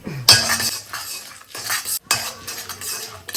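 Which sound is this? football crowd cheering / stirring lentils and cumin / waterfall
stirring lentils and cumin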